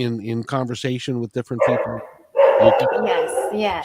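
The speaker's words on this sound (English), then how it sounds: "I'm so sorry. That's my dog." An Australian Shepherd dog barks and yips indoors in a short burst of several sharp barks near the start, while people hold a conversation over and after it.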